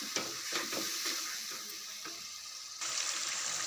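A spoon stirs chana dal frying with red chili powder in a dhaba-style pan, giving repeated scraping strokes over a steady sizzle that grows louder and hissier near the end.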